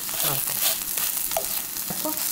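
Small cabbage jeon pancakes pan-frying in oil until golden on both sides give a brief, close sizzle with a few crackles, and a faint voice surfaces briefly.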